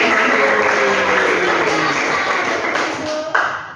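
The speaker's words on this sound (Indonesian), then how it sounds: "Betul, kita kasih tepuk tangan" Hands clap together in a classroom as students applaud, a brief steady burst of mixed claps with a faint voice underneath, tapering off after a few seconds.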